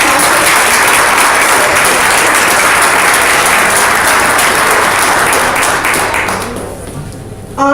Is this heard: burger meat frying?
no